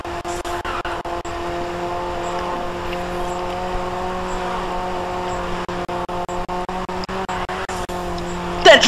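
A race car in the racing game Grid 2 drones at a steady engine pitch under rapid clicking ticks, loud and constant, ending in a short louder burst.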